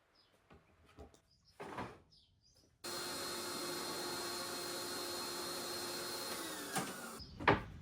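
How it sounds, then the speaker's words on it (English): Circular saw cutting the end section off a board in a workshop: a few clamp knocks and handling thumps, then the saw spins up and whines steadily through the cut for about four seconds, ending in a sharp clatter as the offcut falls. "So next I cut the end section off using my circular saw."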